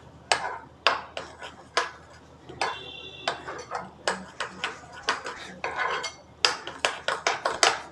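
A spoon works batter for malai broccoli around a basin, scraping and clinking against the sides in quick, irregular strokes with brief pauses, close and clear.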